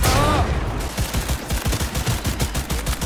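Rapid gunfire in the Cyberpunk 2077 video game, a quick run of close, punchy shots firing in a steady, uneven rhythm after a short noisy burst, with a voice faintly in the mix.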